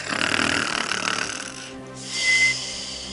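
Several children imitate snoring together in a few drawn-out, rasping snorts, followed by a brief pause and another breathy snore.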